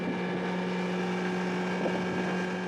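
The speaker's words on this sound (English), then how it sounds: "We're taking a small taxi boat." Steady droning engine hum of a small motor taxi boat with a constant whine, wind and water rushing over the microphone throughout, crossing into Portugal.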